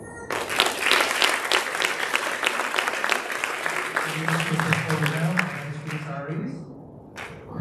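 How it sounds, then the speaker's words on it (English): Audience applause at a school district board meeting and retirement ceremony, sustained dense clapping from a room full of people that tapers off toward the end. "Another big round of applause for them, please."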